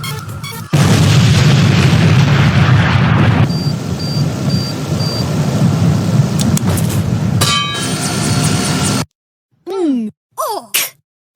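A loud, booming C4 explosive blast in a video game, with a long rumbling roar that fades into scattered, chirping debris-like effects.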